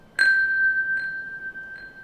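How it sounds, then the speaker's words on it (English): A bright bell-like tone rings through Arturia's Delay Eternity delay plugin, one clear strike followed by two fainter echoes repeating at even intervals over a sustained ringing tail. "the delay that I used on this sound was Delay Eternity"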